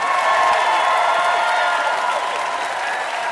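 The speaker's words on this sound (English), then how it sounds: "Some very real applause there." A live debate-show audience in a theatre applauds steadily throughout, a dense wash of many hands clapping with a few faint whoops mixed in, loud and sustained without easing off.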